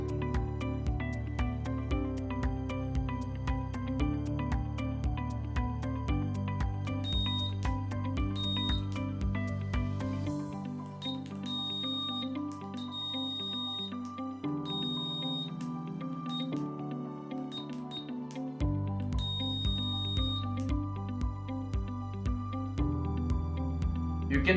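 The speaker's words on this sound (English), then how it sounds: "Here, our Morse code LED buzzer is ready." Beeping from a Morse code LED buzzer built from a DIY STEM robotics kit, tapping out rapid on-off tones in irregular groups over a continuous electronic drone, fairly quiet and close, with no talk.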